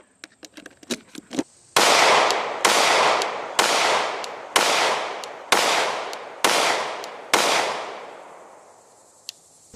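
Glock Model 17 Gen 1 pistol shots ring out outdoors: seven loud, evenly spaced reports, each trailing into a long echoing decay, after a string of lighter clicks and taps.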